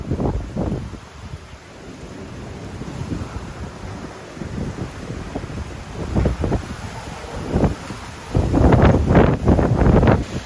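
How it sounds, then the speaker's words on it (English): Strong storm wind roars and buffets the microphone in heavy gusts, with driving sheets of rain and deep rumbling building louder toward the end. "It's just blowing, the wind speeds are absolutely insane."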